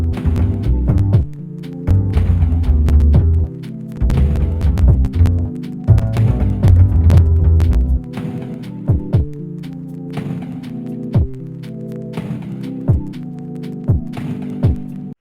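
Lofi jazz beat with the bass line stripped out, loud and close: steady thumping kick and snare hits with a sustained chord pad that drops away after about eight seconds, leaving sparse percussion and thin chords.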